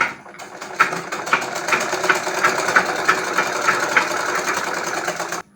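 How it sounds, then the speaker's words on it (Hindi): A sewing machine runs a long continuous stitch along a folded palazzo hem, its needle ticking in a fast even rhythm close by, then stopping abruptly at the end. "यहाँ किनारे किनारे पे सिलाई चला देंगे"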